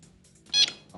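A quiz buzzer at a cricket quiz game sounds one short, bright electronic tone, brief and fairly loud against a quiet room.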